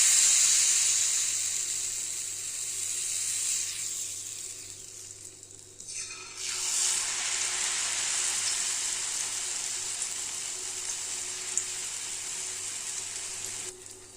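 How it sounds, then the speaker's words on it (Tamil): Kaara achu murukku deep-frying in hot oil, a steady broadband hiss and sizzle throughout, close and fairly loud, with a brief dip midway before the bubbling resumes. "நல்லா அந்த எண்ணெயோட ஓசை அடங்கினதுக்கப்புறம் எடுத்துக்கலாங்க"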